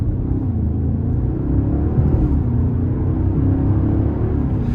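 A 2023 Maserati Ghibli Trofeo V8 heard from inside the cabin, a deep, steady engine rumble with shifts in pitch as it downshifts, loud and close with no talking.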